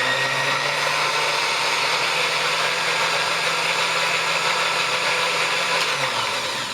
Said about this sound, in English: Just gonna blend this up to a nice liquid.